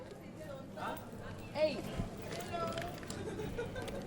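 Horse hooves clop along at an uneven walking pace on Tenerife amid outdoor background noise and faint distant voices.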